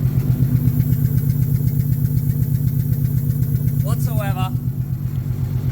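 A spare Nissan RB30 engine idles in an R31 Skyline wagon, its close, loud throb pulsing evenly throughout, with someone talking over it briefly.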